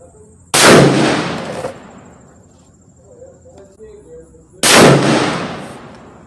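Two loud, close Weatherby Vanguard S2 hunting rifle shots fired at a target, each a sharp crack trailing into a long echoing decay, with a steady insect drone in the quiet between them.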